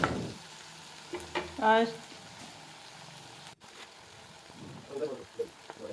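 Chopped tomato and onion sauté in a pan, a faint sizzle with stirring and scraping of the utensil, and a few short clinks near the end.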